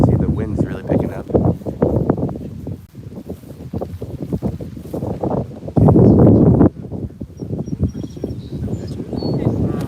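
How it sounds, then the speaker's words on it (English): Strong wind buffets and roars across an open microphone in gusty bursts, with one especially heavy blast midway, while people talk intermittently over it. "the wind's really picking up"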